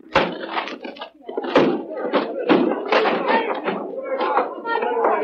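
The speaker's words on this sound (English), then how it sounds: "All right, men, break down the door." A radio drama sound effect of a door being broken down: repeated heavy thuds and splintering crashes hit at irregular intervals over a busy, noisy background.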